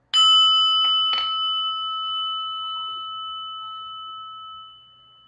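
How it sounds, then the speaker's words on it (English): A meditation prayer bell is struck after a couple of light taps, giving a bright, pure ring that sustains steadily for several seconds and slowly fades. "I'm going to ring a prayer bell"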